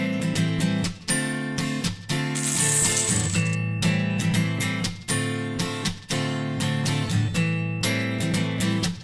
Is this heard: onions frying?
no